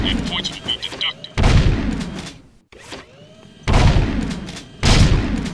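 Gunshots at shooting-range targets in Jak II, several loud separate bursts with short pauses between them, and a voice talking underneath.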